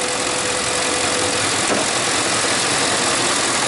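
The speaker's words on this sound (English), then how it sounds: "The engine definitely responded." Ford F150 pickup engine with its mass airflow intake pipe pulled off, running rough and lean: a steady loud broadband engine roar with hissing intake air, continuous throughout with a slight change midway.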